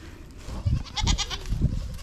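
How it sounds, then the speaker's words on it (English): Goats bleat in a farm pen, with two or three fairly close, wavering calls rising over a low background rumble. No one talks over them. "those are the goats, guys"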